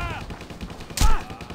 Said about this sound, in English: the shotgun's got a great knockback